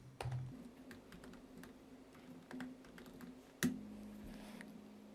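Someone types a command on a computer keyboard, giving a few soft, close key taps spread out over a quiet background, with one sharper keystroke standing out near the end.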